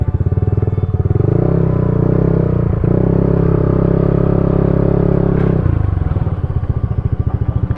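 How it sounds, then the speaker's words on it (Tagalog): A motorcycle engine chugs loudly and close, its pulsing rumble steadying as it revs up, then dropping back to a throbbing idle, on a damaged road under repair in Agoncillo, Batangas. "Susundan natin yung nakamotor."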